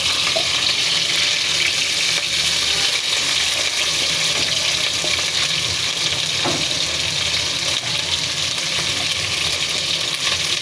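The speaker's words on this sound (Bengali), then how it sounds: "দেখতে থাকুন কিভাবে মাছগুলো ভেজে নিচ্ছি" Small eel fish fry in a pan of hot oil, a constant dense sizzle and crackle close by, loud and unbroken throughout, with occasional faint stirring clicks and no voices.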